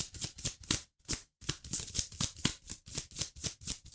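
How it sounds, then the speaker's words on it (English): Tarot cards are shuffled in quick repeated riffles, each a crisp close burst of flicking card edges in a steady rhythm with a brief pause early on. "This is the last shuffle."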